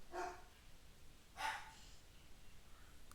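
Pet dogs bark indoors in two separate short yips about a second apart, moderately loud and close, with quiet room noise between.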